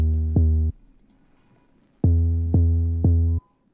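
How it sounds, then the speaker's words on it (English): Spins 808 bass pattern, pitched an octave up: one held tone, a pause, then three short tonal hits in a row, played alone and up close. "this is the Spins 808 pattern, an octave up so you guys can hear what's playing."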